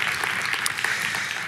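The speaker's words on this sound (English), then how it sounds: "Would you welcome them with your applause" A church congregation applauds, a steady wash of many hands clapping at moderate volume with no single claps standing out.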